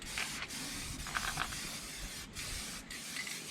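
Aerosol spray paint hisses from a can in a few short bursts with brief gaps between them, fairly faint over a quiet background.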